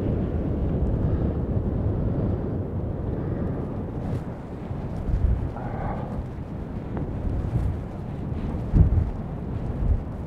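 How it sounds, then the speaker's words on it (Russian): Strong, cold storm wind on the coast at Vityazevo, Anapa, a continuous loud roar buffeting the microphone with heavier gusts now and then, no speech. "Ветер как бы беспрепятственно дует куда хочет"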